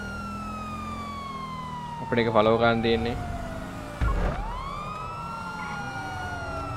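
Police car siren wailing in the GTA V police patrol game, a steady swooping tone running throughout, loud and close, with someone talking over it and a brief burst of other game sounds in the middle.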